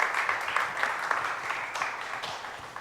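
A church congregation applauds during a worship service, a dense, steady wash of many hands clapping that holds for about three seconds and fades slightly toward the end.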